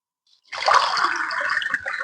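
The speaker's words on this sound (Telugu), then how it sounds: "నేను ఆరు గ్లాసులు వాటర్ పోస్తున్నాను" A short burst of water poured into a pot of rice for biryani, starting abruptly and splashing steadily for about a second and a half, close up.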